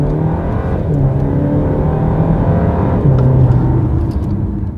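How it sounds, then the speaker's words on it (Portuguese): A Ram Rampage R/T pickup with a 2.0 turbo gasoline engine pulls away hard from a standstill, its exhaust droning loud, close and steady for the whole stretch, rising in pitch as it accelerates, with no talking. "Eu vou fazer um pouquinho de silêncio para ver se vocês conseguem escutar um pouquinho mais o escapamento."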